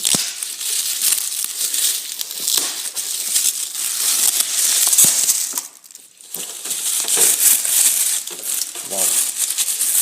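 Packaging of an Xbox One Halo 5 Guardians edition console crinkles and rustles continuously during unboxing, with bright, scratchy plastic and cardboard handling noises close by and a voice talking over them.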